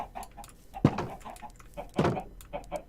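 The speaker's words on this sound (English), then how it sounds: "And now it's time to feed" Chickens in the Minecraft video game cluck in short, repeated bursts, with two louder, sharper calls standing out among softer game clucks, fairly close and with no talking.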